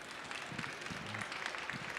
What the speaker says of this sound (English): another round of applause for Lisa, everybody